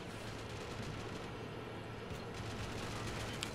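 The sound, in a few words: machine gun firing at troops in Call of Duty video game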